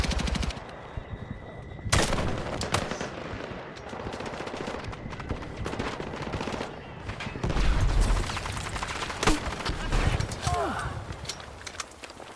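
Gunfire in the Battlefield 6 campaign, with rapid automatic bursts and single shots crackling through a dense combat soundscape, under intermittent French shouting from players.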